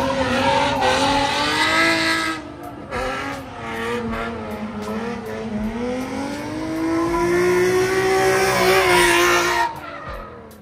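Car drifting at a street drifting event, its engine revving hard in long rising and falling sweeps while tires squeal continuously, loud and close for about ten seconds before cutting off.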